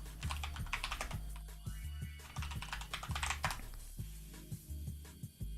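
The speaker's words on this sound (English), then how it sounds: "I have this keyboard." Computer keyboard with red LED backlighting typed on rapidly, close-up clacking keystrokes in uneven bursts with short pauses, loud and alone.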